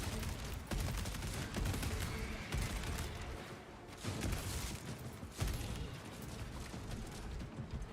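Heavy bolter fire from the Space Marine 2 video game pounds out in dense, sustained bursts of rapid heavy shots, loud and close, broken by brief pauses, with mechanical clatter beneath.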